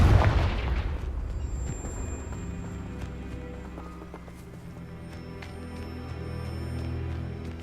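A Confringo blasting spell explodes in Hogwarts Legacy, a loud booming burst at the start that rolls into a rumbling decay, followed by ongoing low game ambience and faint chiming tones.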